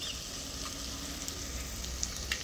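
Onions frying in a pan give a steady, close sizzle with soft crackles throughout, and no one talks over it.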